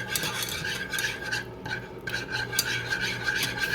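A sauce is whisked in a pot, giving a steady, continuous scraping rasp of the whisk against the metal that runs at moderate volume with only brief dips.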